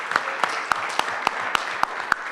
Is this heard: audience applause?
yes